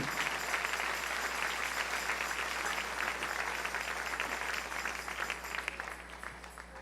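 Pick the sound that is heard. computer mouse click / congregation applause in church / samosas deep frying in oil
congregation applause in church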